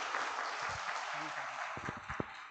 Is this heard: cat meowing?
no